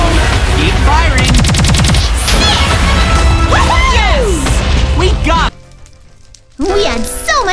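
Weapons in the Minecraft video game fire at specters: rapid bursts of gunfire, crashes, blasts and whooshes, loud and busy, mixed with excited overlapping voices, then a brief lull before the blasting resumes.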